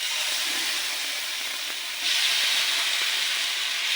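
Fish frying in oil in a pan gives a steady, dense hiss and sizzle that holds throughout and swells slightly louder partway through, with no voices.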